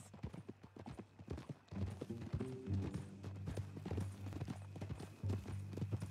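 Horse hooves clip-clop steadily on the ground in Red Dead Redemption 2, a quiet rhythmic series of hoofbeats with a snort or whinny-like tone partway through and soft background ambience.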